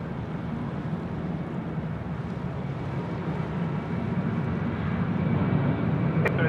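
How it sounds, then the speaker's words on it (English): Qantas Boeing 737 rolling for departure on runway 34 right at Sydney Airport, a steady broad jet roar heard from a distance and slowly building, with a brief click near the end. "A Qantas 737 rolling, runway 34 right."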